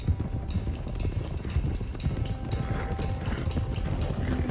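Horses gallop in Red Dead Redemption 2, a rapid, continuous run of clip-clopping hoofbeats, close and fairly loud throughout.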